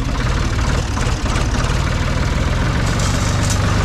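A tractor engine chugs loudly and steadily nearby as it bogs down in mud during hay baling, its low knocking rhythm continuous throughout with no speech.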